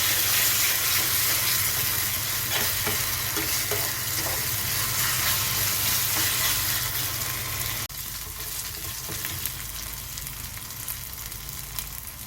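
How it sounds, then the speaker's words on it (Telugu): A paste of ginger, garlic and coriander fries in hot oil while being stirred for a masala curry. There is a steady, bright sizzle with soft scraping stirs, and it eases slightly toward the end. "పచ్చివాసన పోయే వరకు ఆయిల్లో 2 మినిట్స్ పాటు ఫ్రై చేసుకోవాలి."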